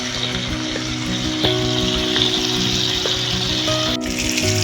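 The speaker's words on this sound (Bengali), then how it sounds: "পনিরগুলো এবার ভেজে নেব। আবারও সামান্য বাটার দিয়ে নিয়েছি," Paneer frying in butter in a pan gives a steady, close sizzle throughout, with a few faint clinks of utensils and no talking.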